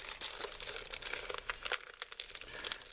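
A large stencil blank sheet of plastic being folded, giving continuous close crinkling and crackling with sharp crisp bursts throughout, no voices.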